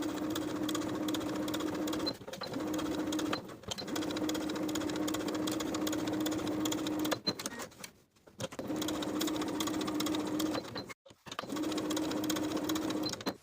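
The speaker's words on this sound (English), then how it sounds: "We're going to edge stitch the pocket bearer pieces in place along the finished edges." Sewing machine edge stitching and basting pocket bearer pieces for high-waisted jeans, running in steady humming bursts of a few seconds each, separated by short pauses, close and clear with no talk.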